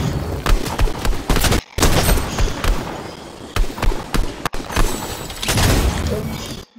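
Gunfire fills a Fortnite match: rapid, loud bursts of shots with sharp cracks and short gaps, fired close and repeatedly across the whole stretch.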